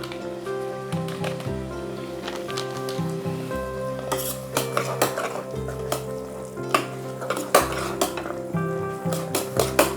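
Sambar powder being stirred into rice in a pot, with a steady background sizzle and repeated close scraping clinks of a spoon against the pan that grow busier toward the end, with no talk.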